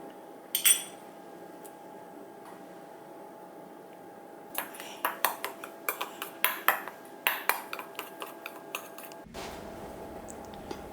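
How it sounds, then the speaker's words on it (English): Dry keto pizza crust ingredients being mixed in a large bowl: a run of quick clinking taps of utensil against bowl, close and moderately loud, comes after a quiet stretch with one early clink. "Mix all the dry ingredients in a large bowl."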